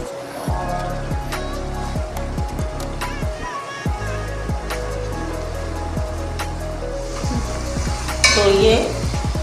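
Masala with turmeric and ground red chili being fried and stirred in a pan for aloo palak, a steady sizzle under repeated knocking and scraping of a spoon, with a louder hissing burst near the end.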